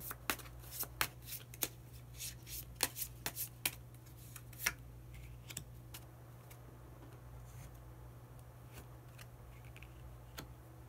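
Tarot cards are shuffled before a hidden card is drawn, a string of sharp, quick riffling snaps close by, clustered at first and then thinning out over a low steady hum.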